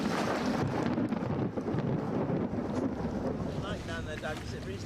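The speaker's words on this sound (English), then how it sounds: "This is the sort of weather he had all those years ago, the poor devil. Another 100 knots of wind." Roaring stormy wind at sea, around 100 knots, buffets the microphone in a dense, continuous howling rush that stays loud throughout.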